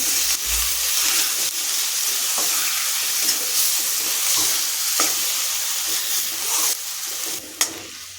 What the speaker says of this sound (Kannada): ಹಾಗೆ ಟೊಮೊಟೊನ ಸಹ ಸೇರಿಸ್ಕೊಂಡು ಫ್ರೈ ಮಾಡ್ಕೊತಾ ಇದ್ದೀನಿ